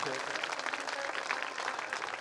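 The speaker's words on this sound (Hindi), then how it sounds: "तो एक जोरदार ताली बजाइए अपने लिए, बहुत अच्छे।" An audience at a Shrimad Bhagavat Katha religious discourse claps together in a dense, continuous round of applause that fills the hall at steady volume.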